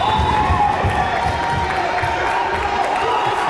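Spectators at a women's college basketball game between Queensborough and LaGuardia CC fill a gym with a loud, steady crowd roar and cheering, with a commentator talking over it.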